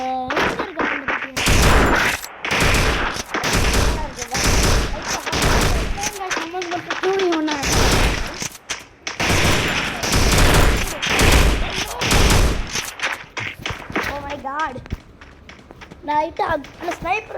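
Rapid bursts of video game gunfire crackle through a shooter match, alternating with short pauses, while several people talk loudly over the shots throughout.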